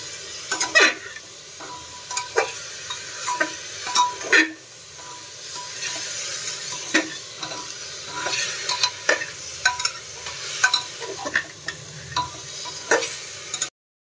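A spoon scrapes and stirs ingredients for chicken curry in a pan over high flame, with repeated sharp clanks against the metal and a steady sizzle of frying between strokes.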